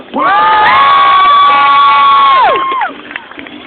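A crowd cheers and shouts loudly for a few seconds at a BMX event at Camp Woodward, with excited children's voices rising together, then the noise drops off abruptly.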